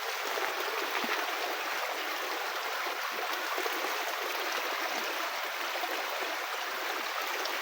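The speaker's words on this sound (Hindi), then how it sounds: "ये छोटा सा नाला टाइप बह रहा है।" A small stream flows unseen through bushes in Kanhati Garden, making a constant, even hiss of running water that holds at a steady level throughout.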